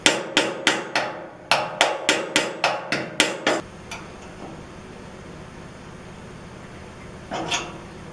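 A screwdriver head taps a Char-Broil BBQ replacement burner tube into place with about ten sharp metallic knocks in an uneven rhythm over three and a half seconds, followed by quiet room hiss and one faint later clink.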